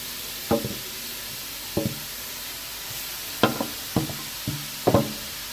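Grated carrots go into a hot kadhai and are stirred with a spoon, giving a series of short, sharp scraping knocks against the pan over a faint sizzle in a quiet kitchen.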